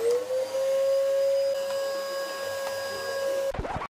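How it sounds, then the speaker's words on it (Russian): A household vacuum cleaner runs with a steady high-pitched motor whine and airy rush, continuous and close, then cuts off abruptly with a clatter near the end. "сейчас буду пылесосить"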